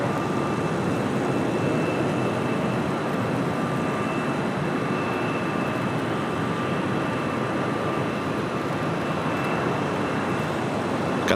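An Airbus A320neo taxis along Taxiway Kilo at LAX before a left turn, its engines giving a steady, moderately distant jet whine and broad rumble that holds evenly throughout with no voices.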